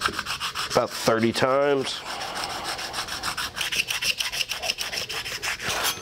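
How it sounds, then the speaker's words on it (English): A steel card scraper's edges rubbed on a diamond sharpening stone in a woodworking shop, rasping back-and-forth strokes under brief speech, then a steady run of short scraping passes. "So I'll just take it, rub it along the edges"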